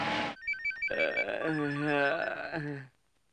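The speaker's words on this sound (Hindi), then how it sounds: "अरे सोने में कौन मुझे फोन करके डिस्टर्ब कर रहा है?" A telephone rings with a bright electronic trill, a short burst followed by a longer warbling ring that stops abruptly.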